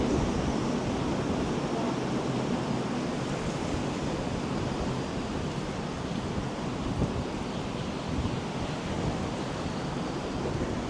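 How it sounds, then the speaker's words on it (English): Strong wind on Saint Simons Island pier in Georgia: a steady, dense roar of gusting air and buffeting against the microphone runs unbroken throughout, with no voices. "It's super windy."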